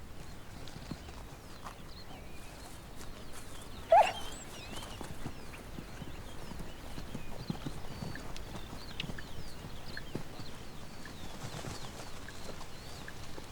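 Hooves of Konik horses clop softly and steadily as they walk, while birds chirp in the background and a brief sharper knock stands out.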